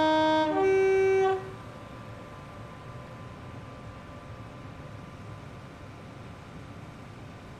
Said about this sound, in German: Kurz die Hupe.